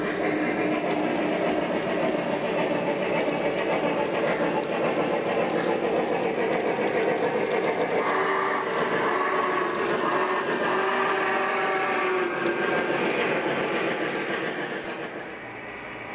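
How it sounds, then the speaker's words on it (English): A Lionel Legacy model locomotive runs steadily across an LCS sensor track on a layout near a grade crossing, giving a continuous close mechanical rumble and whirr with rail clatter that fades slightly at the end, with no talking. "Let's bring our first locomotive around and see what happens."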